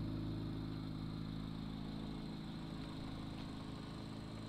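Corvette C8 Z06 sits running in off-road mode in a salvage auction lot, its engine giving a low, steady idle drone with a few faint rough pulses and no voices.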